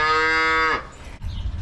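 Dairy cows on a farm give one loud, drawn-out moo close by, lasting under a second, followed by quieter low rumbling and faint background noise.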